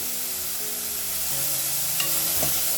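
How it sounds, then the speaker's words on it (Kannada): Curry leaves sizzle and fry in a pan with garlic, onion and tomato, a steady close hiss with a couple of light utensil scrapes against the pan. "ನೋಡಿ ಇದನ್ನು ಕೂಡ ಫ್ರೈ ಮಾಡ್ಕೊಳ್ತಾ ಇದ್ದೀನಿ"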